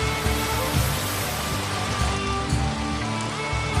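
Cartoon rain falls in a dense, steady patter over a full soundtrack, with a low rhythmic musical pulse running underneath throughout.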